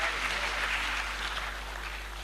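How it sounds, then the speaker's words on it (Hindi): An audience at a mushaira, a poetry gathering in Sri Ganganagar, claps continuously for about two seconds, a steady, dense wash of applause heard from within the hall. "ज़ोरदार तालियों से इस्तकबाल करें"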